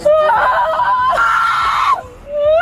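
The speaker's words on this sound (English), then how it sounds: "Why are you screaming?" A loud, sustained human scream rising and wavering for about two seconds, then breaking off into a quieter breathy voice.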